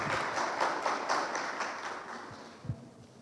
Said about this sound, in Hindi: ताली बजाकर प्रभु की महिमा